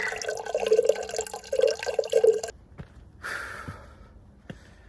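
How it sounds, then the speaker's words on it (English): Fresh mountain spring water running and splashing into a water bottle on a Namsan hiking trail in Gyeongju, a steady trickle for a few seconds before stopping, leaving quiet outdoor ambience with faint drips. "I'm gonna fill up my water bottle right here with some fresh mountain spring water"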